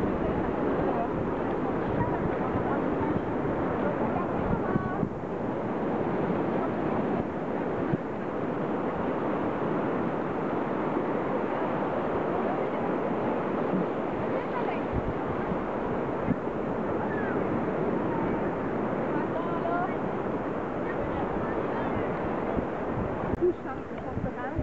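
Ocean surf breaks continuously at a surf school beach in Moguériec, Brittany, a dense steady wash of waves roughened by wind buffeting the microphone.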